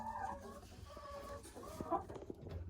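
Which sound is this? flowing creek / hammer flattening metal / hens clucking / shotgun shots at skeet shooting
hens clucking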